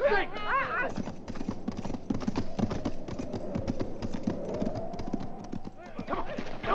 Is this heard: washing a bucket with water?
no